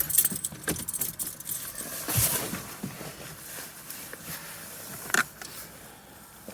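Car keys jangle at the ignition as a car is switched off during a dashcam hidden power supply install, with a couple of sharp metallic rattles and small clicks close by in a quiet cabin.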